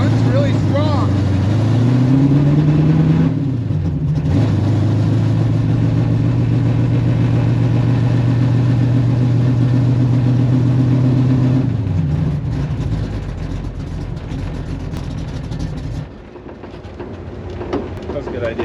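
An AMC Javelin's engine drones steadily and loud, with a rising pitch early on as it pulls, then eases off toward the end; voices talk nearby over the running motor.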